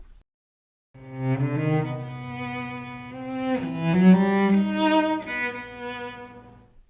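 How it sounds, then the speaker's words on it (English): A cello plays alone, a few sustained, warm bowed notes moving slowly, moderately loud and close, fading out at the end. "Here is the sound of a cello."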